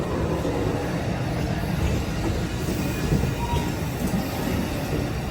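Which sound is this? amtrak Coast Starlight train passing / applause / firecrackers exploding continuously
amtrak Coast Starlight train passing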